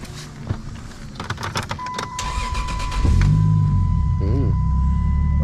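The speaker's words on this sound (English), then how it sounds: "I'm gonna go and turn the car on." Chrysler 300 with a swapped 2JZ engine is started: door and cabin clicks, a chime, then the starter cranks and the engine catches into a steady, close idle.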